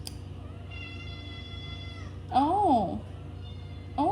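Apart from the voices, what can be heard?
orange cat meowing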